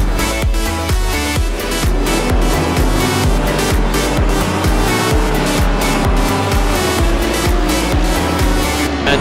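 Race cars roar through a fast section at Watkins Glen in a sim racing game, with a continuous loud engine drone and repeated rising and falling gear-change pulses, tire noise mixed in, no talk.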